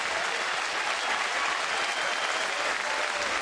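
A baseball stadium crowd during a Colorado at Toronto game applauds in a steady, distant, dense wash of clapping with no voices over it.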